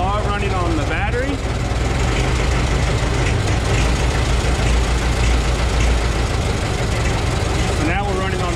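A Ford Model T engine idles on battery ignition, running loud and close with a steady, throbbing low rumble throughout, while a voice briefly speaks over it.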